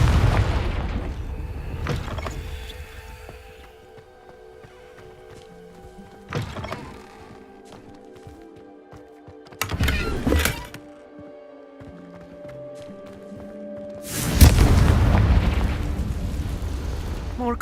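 Several loud booming blasts from the Confringo fire spell in the video game Hogwarts Legacy, spaced apart with the heaviest burst near the end over a quiet background of game ambience.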